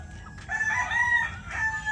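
Young gamecock stags crow in short, thin, reedy calls, one after another at moderate distance, with no talking.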